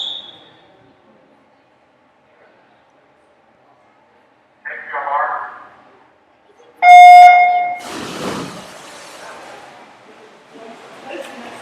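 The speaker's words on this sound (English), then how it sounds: "Officials are about ready to blow the whistle, and we'll be underway here in heat 5 of 5" Officials' whistle at a youth swim meet for the mixed 10 and under 100 IM heat, followed by a loud electronic start signal, then a rising wash of crowd and pool noise.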